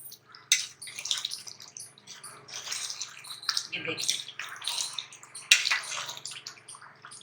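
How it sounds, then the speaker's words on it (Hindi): Water is poured into a pan of frying potatoes and kofta, making splashy sizzling bursts and drips over a low hum, with someone briefly speaking. "अब मैं इसमें करूंगी पानी शामिल।"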